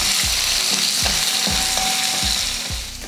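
Onion, dried red chilies and garlic sautéing in a pan for a beetroot chutney, a steady loud sizzle broken by several rhythmic scraping stirs of a spoon.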